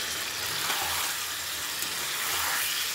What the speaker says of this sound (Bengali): আবারও কষিয়ে নিচ্ছি মাংসগুলোকে।